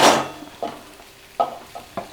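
Cooked rice tipped into a hot pan and stir-fried for vegetable fried rice: a loud opening sizzle, then a few brief scraping and sizzling bursts at irregular intervals, close up with no voices.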